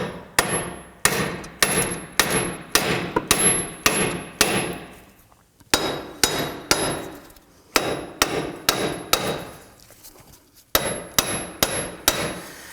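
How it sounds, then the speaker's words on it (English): Sharp metallic hammer blows ring out on a steel hub flange of a 2005-2009 Subaru Legacy in steady bursts, several quick strikes per run with brief pauses between groups, close and loud. "use a hammer and tap the back side of the hub flange itself to try and pop that out"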